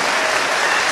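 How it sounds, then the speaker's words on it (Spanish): Applause from a church audience, a dense burst of clapping filling the whole short moment at steady loudness, with no voices over it. "A fuerte aplauso para este hermano."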